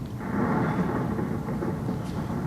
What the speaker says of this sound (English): Here it comes. The storm.